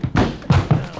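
Heavy thuds of a house door being smashed in for a radio drama, three or four forceful blows about half a second apart, loud and close with low booming impacts.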